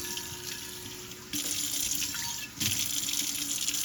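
A kitchen sink faucet runs while a pan is rinsed, a steady close rush of water whose splashing changes pitch as the flow hits the pan and basin.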